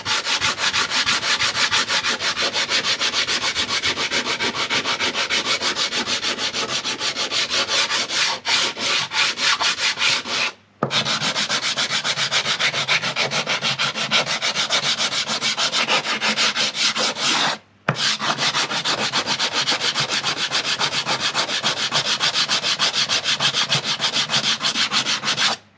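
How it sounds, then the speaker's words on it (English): Steady, continuous hand sanding of wood aboard a boat, smoothing out saw-cut marks, a loud close scratchy rubbing that runs almost unbroken with two brief pauses and no talk. "Just finished off sanding out the marks where I've"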